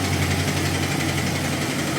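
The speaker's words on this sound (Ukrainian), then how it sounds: "Звучить так, ніби калатає ланцюг ГРМ." A Honda VFR 800 VTEC motorcycle engine idles steadily up close with a persistent metallic ticking rattle from a loose timing chain, coming from the front cylinders, riding over the low, even rumble.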